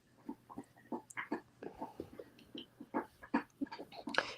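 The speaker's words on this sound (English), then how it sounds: "that's my dog chewing a bone" A dog gnaws on a bone close by, with irregular wet crunches and clicks repeating in uneven bursts over a few seconds, fairly quiet with no talk.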